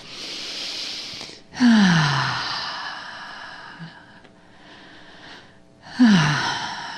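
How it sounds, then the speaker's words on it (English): Two slow, deep breaths close to the mic during a guided relaxation, each a long audible inhale followed by a sighing exhale, with quiet pauses between them. "let's come all the way back into our bodies with a few deep breaths. Nice big inhales and exhales."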